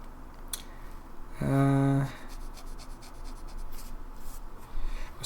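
A LAMY Safari 2021 special edition fountain pen with a broad nib scratching softly across Rhodia paper in close, continuous strokes, with a brief tonal squeal partway through.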